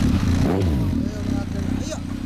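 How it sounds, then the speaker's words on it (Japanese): A 2003 Honda CB1300 Super Four ABS motorcycle engine idles and revs with a rough, throaty rumble close by, while people talk over it. "エンジンを聞かせて"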